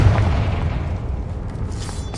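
Confringo blasting spell explosion in Hogwarts Legacy, a deep rumbling boom that rolls and decays over a couple of seconds with a faint crackle near the end.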